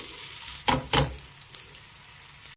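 Kayi obbattu (coconut holige) frying in oil on a pan, a steady crackling sizzle with two brief louder hissing bursts close together near the middle, heard alone.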